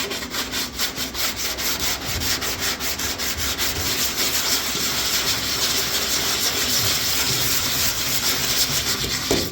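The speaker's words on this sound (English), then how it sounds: "This is still 80 grit. I really like, which way is it? I really like the 3M80 grit blue." Hand sanding with 3M blue 80-grit sandpaper on a C10 truck body during dent repair and primer prep: a close, loud, continuous scratchy rubbing with quick back-and-forth strokes and no talking.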